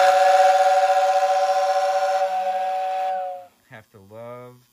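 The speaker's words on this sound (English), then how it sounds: "Love the sounds of the old school tenders, the whistles" A Lionel 2046 model train's steam whistle blows a loud, steady tone for about three seconds and then cuts off, with a brief voice after it.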